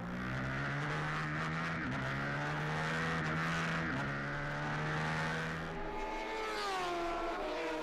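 A roadster and a superbike race at Paul Ricard circuit, high engine whines holding pitch and then dipping through gear changes, with a later rising scream as one machine passes, moderately distant and continuous.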